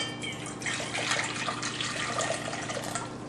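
Water pours steadily into a container for a few seconds, a soft continuous splashing gurgle heard up close.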